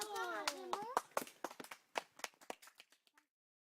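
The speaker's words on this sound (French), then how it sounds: "vous pouvez applaudir" A short burst of clapping from a small group, uneven and a bit scattered, fading out after a few seconds; a voice speaks briefly at the start.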